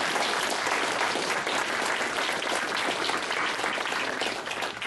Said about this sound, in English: We want to have a great round of applause for them.